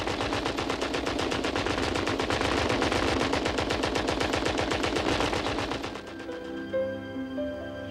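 A WWI machine gun fires a long, rapid, evenly spaced burst of loud close shots, then stops abruptly near the end, leaving a lingering low rumble and faint tones.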